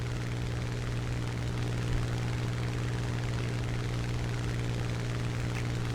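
A propeller aircraft with a damaged wing drones steadily in War Thunder, a constant loud engine hum with low tonal throb and airy roar that stays unchanged throughout, with no voices.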